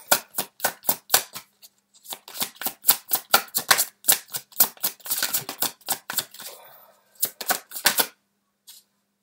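Tarot cards are shuffled close by in quick riffling bursts with short pauses between them, crisp and fairly quiet, with no one talking.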